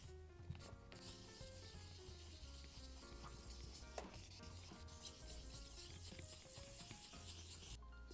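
Sandpaper rubbing over paint drips on a car bumper, a continuous gritty scrubbing with repeated strokes, close and fairly quiet, with no talking.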